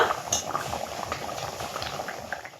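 Rui fish curry broth with taro bubbling at a steady, close boil in a pot, a dense continuous gurgle with faint utensil clinks.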